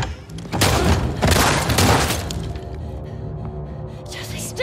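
Loud gunshots in The Last of Us Part 2, three broad blasts close together in the first two seconds, then fading rumble and ambience.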